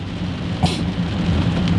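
Heavy rain falling outdoors near a forest, a loud dense roar with a low rumble beneath and a brief brighter burst partway through, continuous and without speech.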